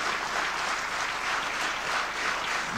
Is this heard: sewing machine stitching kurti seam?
no